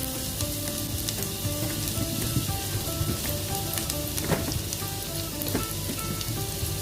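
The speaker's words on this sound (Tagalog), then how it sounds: "At isutay po natin ito sa ating butter." Ginger sautéing in butter in a pan, a loud, steady sizzle and crackle with occasional stirring clicks, close up and continuous with no talking.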